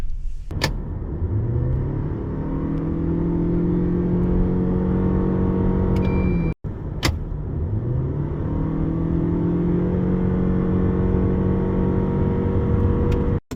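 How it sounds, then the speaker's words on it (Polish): A 2023 Lexus LM accelerating hard from a start, its continuously variable transmission whining steadily and rising inside the cabin, loud and continuous, briefly cut before resuming. "takie jednostajne, maksymalne przyspieszenie powoduje wycie w środku"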